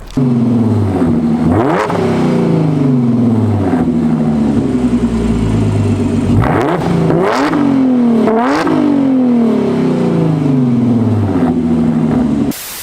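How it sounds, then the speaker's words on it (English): A modified Audi S4 engine revs hard several times through an aftermarket exhaust, roaring up and down with loud rising and falling pitch sweeps over a steady deep idle. "I'm going to insert a clip of what this exhaust sounds like"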